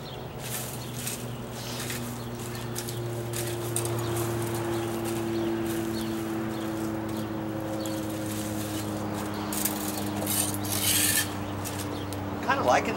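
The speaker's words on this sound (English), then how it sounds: "Kind of liking this little leaf rake. It works a little bit better than one of those stiff garden rakes for this." Steady scraping and rustling of a small leaf rake dragging landscape bark across the ground, a continuous close rasp with a low background hum throughout and a few sharper scuffs near the end.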